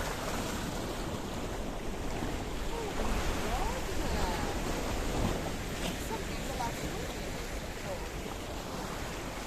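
Steady roar of sea waves washing along the Paphos coastline in Cyprus, heard from a seaside promenade with some wind rumble on the microphone; continuous and fairly loud, with no distinct breaks between waves.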